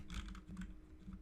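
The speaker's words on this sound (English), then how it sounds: "You're gonna open it again, and you're gonna type in" Soft, quiet clicking of keys on a computer keyboard in a short burst of typing, close by with no voices.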